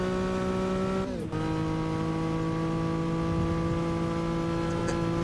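A 1960s touring car racing in the Assetto Corsa video game, its engine holding a steady loud droning tone. The note drops briefly at a gear change and then continues evenly.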